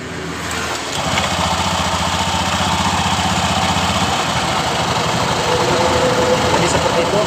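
A Honda BeAT scooter engine starts after about a second and settles into a steady, rough idle with a noisy pulley. The running is close and continuous to the end.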